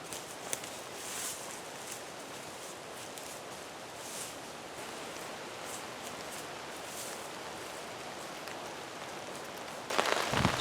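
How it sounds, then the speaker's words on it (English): Steady rain patters on a camping tarp strung along a ridgeline as wind picks up ahead of a thunderstorm, a dense even hiss with a few louder drop clusters and a sharp burst of noise at the very end. "So the rain's coming down, the wind's picking up, thunderstorms are on the way."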